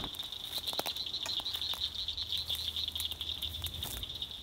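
Rain patters steadily through trees beside a tree stand being built, soft scattered drops over a constant high insect-like hiss, with faint creaks and knocks.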